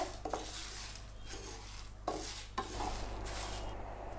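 Masala for a spicy chicken fry roasts in a pan, giving a quiet dry scraping and rubbing from a utensil, with a few sharper scrapes against the metal.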